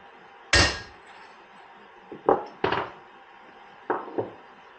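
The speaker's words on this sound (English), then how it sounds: "We'll hit it one good time with a hammer." A sharp, loud hammer strike on an installation tool rings out during a 1948 Harley-Davidson WL Flathead 45 engine rebuild, followed by several lighter knocks and taps at uneven intervals in a quiet room.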